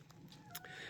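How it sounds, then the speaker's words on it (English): Chickens, including black sex links, clucking softly in a backyard flock, a few short low calls over a faint steady background in a brief moment. "the chickens seem to be doing pretty well"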